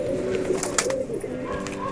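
Brief low cooing from dobaz pigeons, soft and close, with faint background noise and no clear talk.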